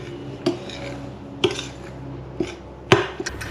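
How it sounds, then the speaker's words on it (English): A spoon knocks and scrapes against a bowl while mixing sugar into a WWII rations pudding mixture, four or five sharp clinks spaced about a second apart, close and clear. "Give that a little mix in with my spoon."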